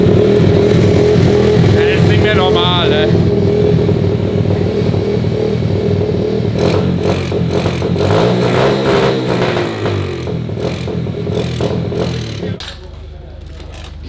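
A small drift quad engine runs loudly up close with a rough mid-pitched drone and bursts of revving, while people talk over it before it suddenly cuts out.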